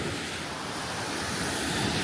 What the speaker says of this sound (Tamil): இது தனியாக ஒரு ப்ரைவேட் பீச், இங்கே யாரும் வர முடியாது.